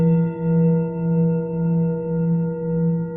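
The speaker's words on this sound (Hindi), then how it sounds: "ये मणिपूरक चक्र की ध्वनि है।" A sustained meditative drone tone offered as the sound of the Manipura chakra, steady and loud with slow rhythmic swells in volume and no voices.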